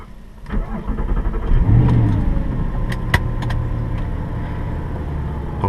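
An Audi R8 engine cranks and fires up, settling into a steady, moderately loud idle heard close by, with no talking.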